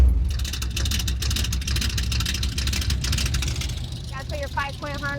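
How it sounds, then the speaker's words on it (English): A custom 1964 Chevy Bel Air engine runs steadily with a broadband rumble, while people talk over it and a brief whistling tone rises near the end. "let's take this car for a ride."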